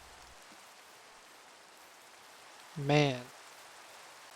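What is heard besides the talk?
rain in the Minecraft video game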